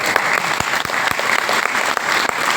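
An audience at a business meeting in Dehradun breaks into loud, close applause. Dense, crisp claps continue evenly without letup for the whole moment.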